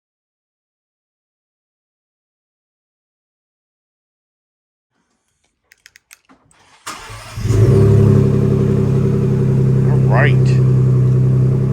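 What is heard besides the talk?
Ford Bronco II engine starting and revving with new exhaust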